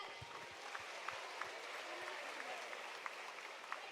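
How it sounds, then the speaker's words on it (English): An audience claps at a university new student convocation, with steady, fairly faint applause and a few sharper individual claps standing out. "clap it up, clap it up."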